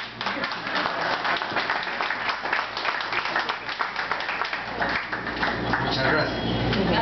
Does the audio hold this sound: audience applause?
yes